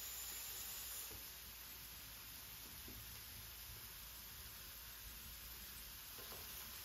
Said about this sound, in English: The heat is really cranked up now, and I can hear the sizzling